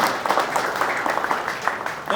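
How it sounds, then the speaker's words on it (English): Applause at an outdoor press conference for a new $4.3 million public pool, a crowd clapping steadily at moderate loudness throughout. "deserve another round of applause for all the work they do to make things like this happen"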